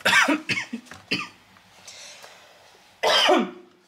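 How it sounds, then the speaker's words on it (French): A person coughs in a quick burst of three or four harsh coughs, pauses, then lets out one more loud cough; close, no talking. "je vais tousser un peu"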